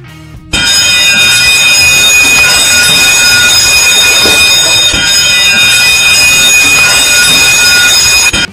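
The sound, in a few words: continuous ship alarm horn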